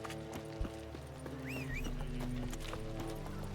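Horse hooves clip-clop at a gallop in The Witcher 3, a rapid rhythmic clatter under steady game music, with a brief neigh.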